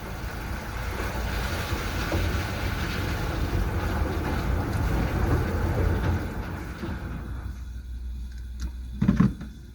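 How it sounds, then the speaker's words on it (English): A boat engine drones steadily while moving through a flooded passage, a low continuous hum with wind buffeting the microphone, easing off near the end where a brief knock sounds. "You can hear my engine going."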